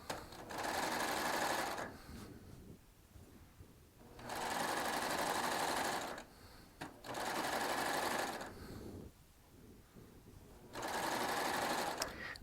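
A Baby Lock Triumph serger with a ruffling foot stitches through fabric in four steady, loud runs of even motor whir, each a few seconds long, separated by quiet gaps.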